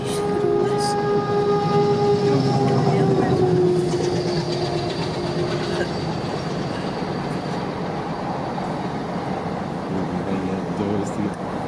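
A train bound for Cochin rumbles past nearby, with a steady rolling clatter and a faint horn-like tone near the start, while voices talk over it.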